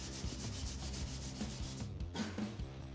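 Fine 800-grit abrasive rubbing back and forth over the frets of a guitar neck, a steady close scratchy sanding with repeated rhythmic strokes and no voices.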